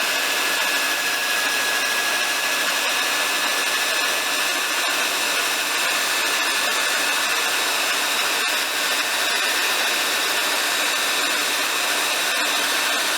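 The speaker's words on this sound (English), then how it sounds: "Reverse your drill as you come up to the outside." A power drill sanding a turned wood platter makes a steady, loud, broadband whir with a constant hiss and faint grinding ticks, running without a break and with no voices.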